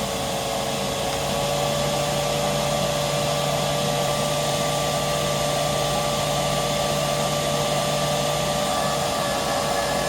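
An Aerus Lux Guardian C154E air purifier runs on its high setting, giving a loud, steady airflow whoosh with a constant motor hum that holds unchanged throughout, with no talking.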